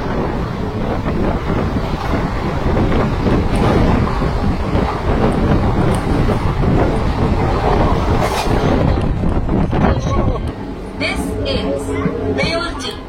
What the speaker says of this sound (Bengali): ওয়ান 8410 আমাদের শ্রী জগন্নাথ এক্সপ্রেস, পুরী টু শালিমার যাওয়া গামী ট্রেন, চলুন দেখে নিই।